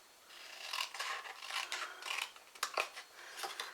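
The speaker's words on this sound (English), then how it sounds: "I'm going to trim that bit back a tiny bit more" Scissors trim a little more off a handmade paper pocket card, producing a soft, continuous rasping crunch of blades through paper, close and moderately loud, with slight surges and no speech.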